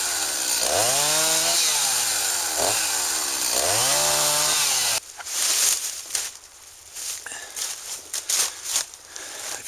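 A chainsaw revs and bogs through a small dry tree, rising and falling engine whine in repeated surges, then a shift to a rough, crackling cut with a rattling, uneven roar.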